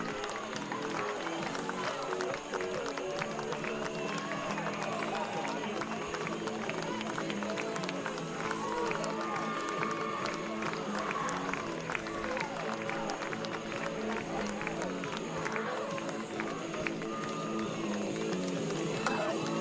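Crowd at a boys' lacrosse semifinal applauding from both sides, a sustained wash of clapping and cheering in a gym-like space, with a commentator talking over it throughout.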